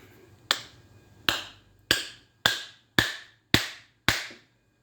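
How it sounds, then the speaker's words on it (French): A hammer taps a copper coil salvaged from an air conditioner fan unit: seven sharp, ringing metallic strikes at a steady, slightly quickening pace, close and clear, each with a short bright decay, over a faint low hum. "On prend le marteau."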